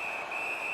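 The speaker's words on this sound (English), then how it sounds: "Holds on and gets that whistle." A referee's whistle in the NHL19 ice hockey video game, a single steady high-pitched tone held through the whole short moment, moderately loud with no talk.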